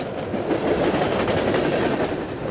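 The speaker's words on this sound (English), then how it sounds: "I thought that was an actual train" A ghost train passes in the Into The Radius video game, a steady, loud rumbling roll with faint rhythmic clacking of wheels over rails, continuous and close throughout with no talking.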